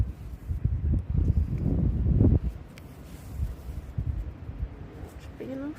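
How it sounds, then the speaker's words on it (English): Strong wind gusts outdoors beside a canal narrowboat, rushing and buffeting the microphone in uneven surges that swell and ease over several seconds, with low rumbling noise throughout. "it's extremely windy today."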